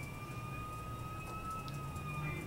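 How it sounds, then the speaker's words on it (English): Steady, faint wail of distant emergency sirens holding a high tone over low background rumble, with no talking. "I hear them, the sirens."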